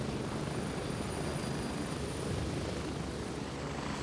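Helicopter in Gray Zone Warfare, a loud, steady rotor and engine drone heard from on board, continuous and unchanging with no talk.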